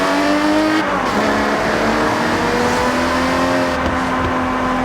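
A straight-six car fitted with a sport exhaust in Forza Horizon 6 revs loud and close, its engine note climbing and holding steadily with a brief dip partway through, no voices.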